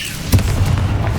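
A Confringo fire spell explodes in the Hogwarts Legacy video game: a single sharp burst followed by a deep, rumbling boom that rolls on loud and close with no voices.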